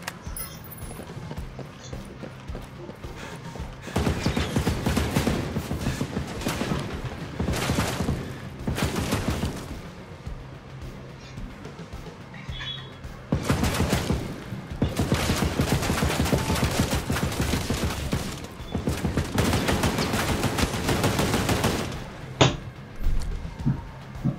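Sustained bursts of gunfire in the Ghost Recon Breakpoint video game, long dense volleys of rapid shots separated by quieter gaps, loud and close, with one sharp single crack near the end.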